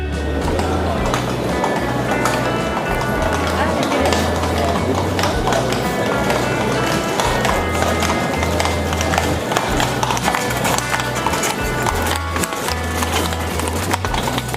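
A black and white horse-drawn carriage rolls through Prague streets, its hooves clip-clopping in a steady running rhythm, loud and close, over busy street noise.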